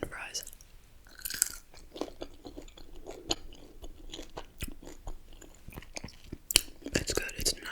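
Seasoned Popeyes fries get chewed close to the mic in soft, crunchy bites with wet mouth sounds, quiet and intimate, repeated irregularly throughout.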